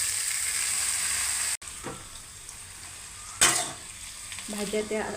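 Fenugreek leaves are stirred in a pan with chilli and garlic that are already roasted. A bright, steady sizzle runs throughout, with spatula scrapes and a brief sharp clatter partway through, plus a few faint background sounds near the end.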